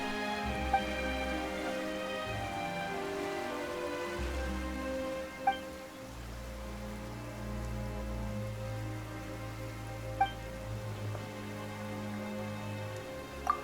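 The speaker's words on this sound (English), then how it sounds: "Why is it raining all of a sudden?" Rain falls in the video game Genshin Impact, a steady, soft hiss of rain on surfaces layered over sustained musical tones, with a few faint drop-like ticks and no talk.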